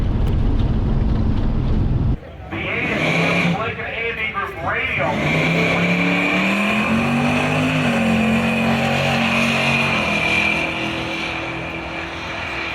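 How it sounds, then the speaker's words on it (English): A loud drag race car engine roars and revs, sputtering and uneven as it breaks up and misfires, with a brief radio voice early on. "You can almost hear the engine breaking up again"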